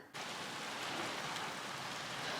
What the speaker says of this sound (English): It decided to rain and hail started coming down.